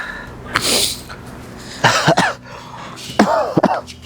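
A few harsh, bursting coughs come in separate clusters, close and fairly loud, with quiet breathing and low background hum between them.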